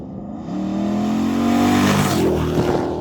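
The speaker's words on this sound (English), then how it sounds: "LT1 sound absolutely brilliant" A 1971 Chevy C10 pickup with an LT1 V8 accelerates on an open road, the engine note rising and building into a loud, close, throaty roar as it pulls through the revs, with no voices.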